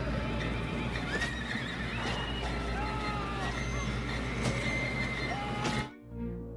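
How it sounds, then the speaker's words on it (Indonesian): Horses whinny and neigh repeatedly in a film scene from Bram Stoker's Dracula, loud shrill calls overlapping with stamping hooves and a busy background din before everything cuts off abruptly. "Para wanita vampir itu kesal dan membunuh kuda-kuda Van Helsing sebagai gantinya."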